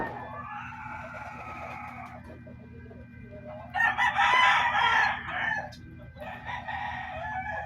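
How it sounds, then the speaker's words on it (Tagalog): Chickens outside, with a rooster crowing loudly twice, the calls drawn out and ringing over a low steady hum. "May ingay sa labas na nag-ano ng mga manok."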